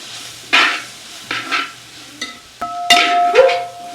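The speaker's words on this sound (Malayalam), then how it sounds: "എന്നിട്ട് നല്ല പോലെ ഇളക്കി കൊടുക്കാം." A spoon stirs duck mappas with pepper powder and other spices in a pan, Kerala style: several loud, close scraping strokes, then a metallic clank that rings briefly. A soft sizzle sits underneath, with no talking.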